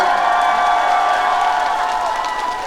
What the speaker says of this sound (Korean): 여러분들께서도 박수 많이 쳐주시고 같이 즐겨주셨으면 좋겠습니다